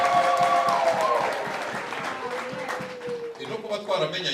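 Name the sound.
congregation clapping applause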